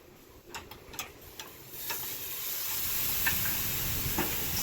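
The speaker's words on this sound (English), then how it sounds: "Sear it a little bit here." Meat searing over direct heat on a Weber Summit charcoal grill, with a steady hiss and sizzle that builds and holds alongside a few light ticks and clinks, close and fairly quiet.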